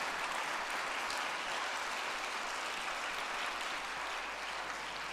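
A church congregation applauds, an even wash of dense clapping holding steady for several seconds with no talk over it.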